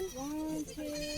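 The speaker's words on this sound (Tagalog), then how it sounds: "Ayan ang aming mga kambing guys" Goats bleating on a farm in a pen, a close, wavering nasal bleat that drawls across most of the moment, with a voice briefly audible alongside.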